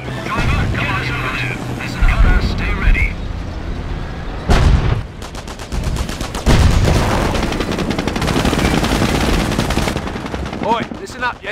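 Tank crew gunfire in a World War II video game set during the Liberation of Caen near Authie: bursts of machine-gun fire and heavier cannon shots rattle loudly over engine rumble, with voices talking between and under the shots.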